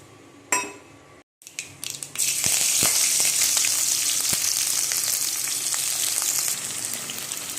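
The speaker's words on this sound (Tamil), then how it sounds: "எண்ணெயை ஊற்றிடலாம். தாளிப்பு ஐட்டத்தை சேர்த்துடலாம்." Tempering spices hit hot oil in a pan for a Malabar kingfish curry, bursting into a loud, steady sizzle after a few sharp clatters and pops, the hiss holding strong with occasional crackles.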